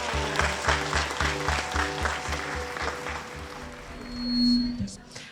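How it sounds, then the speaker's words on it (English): Audience clapping at a climate campaign event as a Form 3 student from Garissa High School comes forward, steady applause over a rhythmic background musical beat, ending with a sustained tone. "Let us clap for Imran as he comes over."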